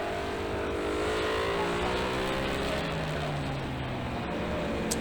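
BMW, Kawasaki and Ducati racing motorcycles on a track during a PSBK pre-final race howl past in a continuous loud engine roar, their pitch sweeping as they approach and accelerate through a turn.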